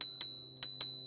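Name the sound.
scooter handlebar bell ringing, Hiboy X300 electric scooter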